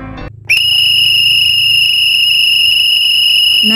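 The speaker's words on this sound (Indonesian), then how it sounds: "bunyi peluit yang ditiup" A single shrill whistle blast starts after a brief pause and holds steady at full loudness, a sustained piercing tone with no talking.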